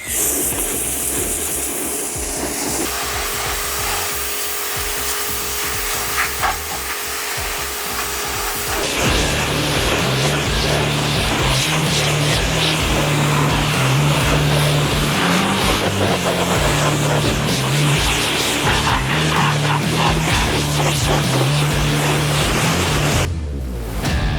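A high-pressure washer cleans concrete with a loud, continuous hissing roar that shifts to a harsher, fuller spray partway through and runs unbroken until it cuts off at the end.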